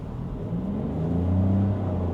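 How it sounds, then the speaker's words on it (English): A Mazda 2 Hybrid with a CVT gearbox drones at a steady, unchanging engine speed while driving, a constant low hum heard from inside the car with no talking. "it's going to have that constant roar of a typical CVT"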